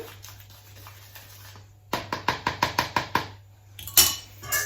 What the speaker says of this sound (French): je mélange donc la farine et la levure avant de l'incorporer dans le cul de poule